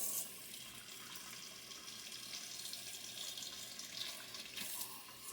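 Warm water running from a kitchen tap, a faint steady hiss and splash that continues for several seconds with slight swells, no voices.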